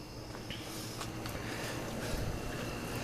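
A Baja Warrior minibike engine idles with its stock 2-to-1 gear reduction, giving a steady, low, even drone without revving, recorded outdoors with some wind noise and no voices.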